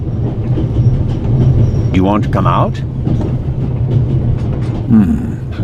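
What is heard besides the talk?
train running in video game The Raven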